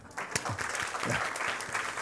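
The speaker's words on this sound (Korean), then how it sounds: "박수 한번 주십시오." A brief burst of congregation applause during a worship service, a short stretch of moderately loud, dense clapping with a few distinct claps poking through.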